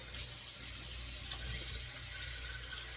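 A tap runs at a steady, soft rush of water at a bathroom sink as a face is wetted before shaving, continuous and unbroken throughout.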